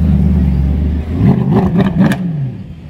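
A Mercedes C63 AMG revs hard on a street in Monaco, a loud, close engine roar with several sharp blips and a rising acceleration note that fades away.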